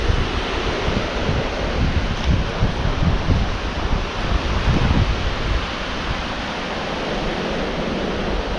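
Pacific Ocean surf washes onto a beach at Tuross Head in southern New South Wales, a broad continuous roar of breaking waves mixed with heavy wind buffeting the microphone, easing slightly toward the end.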